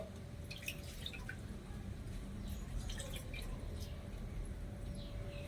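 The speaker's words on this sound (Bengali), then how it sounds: "এবার আমি অল্প অল্প করে জল দিয়ে ছানাটা একটু ধুয়ে নেব" Fresh chhana curd rinsed with small amounts of water, a quiet continuous dripping and trickling with light squishy splashes, close by and without talk.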